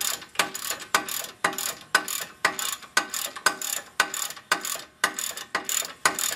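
A ratchet wrench tightens the brake caliper bolts on a Lexus IS during a rear brake pad change, clicking in a steady, loud, close rhythm of about two strokes per second with no talk.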